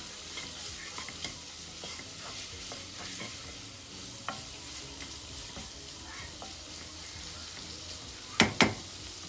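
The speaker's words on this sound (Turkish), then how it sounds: "Şimdi böyle güzelce çevirelim etimizi. İyice kavrulsun." Meat seasoned with salt being stirred and browned in a pan for maqluba, a soft constant sizzle with irregular utensil scrapes and taps, then two sharp metallic clanks near the end, close up with no talking.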